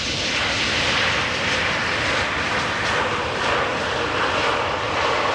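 Jet airplane roaring steadily at Amsterdam Schiphol Airport, a loud continuous broadband engine rush with no speech, sustained throughout as the aircraft passes near.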